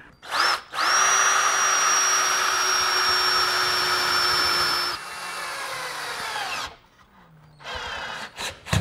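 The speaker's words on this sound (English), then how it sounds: "now we're going to drive a couple screws from the inside" A power drill drives screws into a wooden Adirondack chair, whining loudly at a steady pitch for several seconds, winding down, then running again in shorter bursts, close and with no talk.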